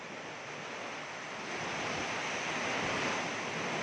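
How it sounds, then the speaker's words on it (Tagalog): Strong typhoon wind roaring steadily in Lipa, Batangas, a loud continuous rushing that buffets the microphone and swells slightly louder toward the end, with no voices. "Lakas talaga ng hangin."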